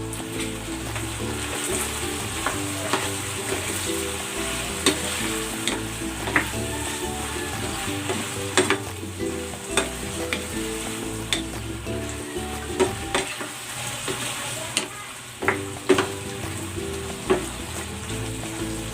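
Squid stir-fries in a hot pan with onion leeks, green chilies and bird's eye chilies, sizzling loudly and steadily while a utensil repeatedly clacks and scrapes against the pan.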